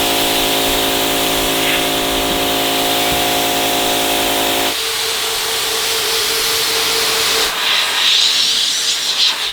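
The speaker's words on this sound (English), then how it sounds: "I think I am going to power wash them. I'm just going to take them out and just blast them down with some soap." A pressure washer blasts soapy water over car floor mats in a loud, steady hiss. The tone shifts partway through as the spray moves, and no one speaks.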